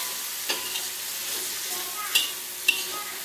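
Squid that has been soaked and washed is added to a hot pan for sambal, giving a broad steady sizzle with a few sharp clinks and stirring knocks up close.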